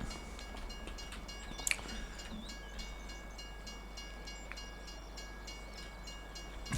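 A train rolling along the track in Farming Simulator 25, a quiet steady rumble with rhythmic wheel clatter and a few brief squeals and clanks, fairly distant.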